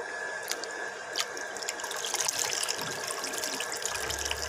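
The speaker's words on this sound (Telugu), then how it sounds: "ఈ విధంగా వాష్ చేసుకుంటే నీసు వాసన రాదండి." Fish pieces are washed in salted water, giving steady running and splashing water with occasional drips and sloshes, close and fairly constant throughout.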